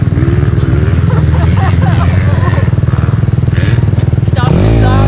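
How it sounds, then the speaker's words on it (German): A motocross motorcycle stuck in deep sand at the MC Coswig track revs hard and steadily, its loud, close, buzzing engine rising in pitch at the end while a rider talks over it. "das Motorrad fährt nicht nach vorne"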